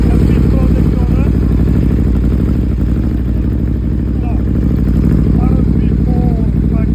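An Aprilia RSV4 Factory motorcycle engine idles with a loud, throbbing, continuous rumble close by, while a voice speaks intermittently over it.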